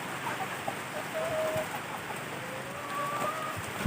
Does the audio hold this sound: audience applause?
no